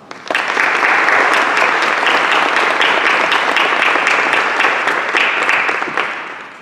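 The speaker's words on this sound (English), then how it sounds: "Please join me in thanking them with a round of applause" A large audience claps steadily at an NHS induction ceremony, a dense, loud wash of applause that holds for several seconds before tapering off at the end.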